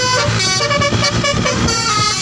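Toy telolet bus horn blaring a loud, continuous, melodic multi-tone toot close by, with no talking.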